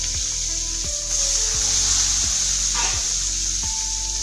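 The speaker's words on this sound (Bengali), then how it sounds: "এখন আঁচটাকে একটু কমিয়ে দিয়ে নিয়ে বেগুনগুলোকে আমি দিয়ে দিব, হালকা ভাজা করে নেব।" Eggplant pieces fry over lowered heat in a pan just used for hilsa fish, giving a steady sizzle punctuated by several sharp knocks and scrapes of a utensil against the pan.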